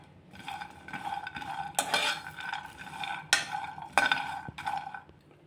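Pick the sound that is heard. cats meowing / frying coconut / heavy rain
frying coconut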